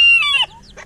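A chicken gives a brief, close cluck with a sharp rising call, then a fainter second note, with nothing else around it.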